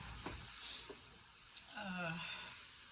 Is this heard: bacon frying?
yes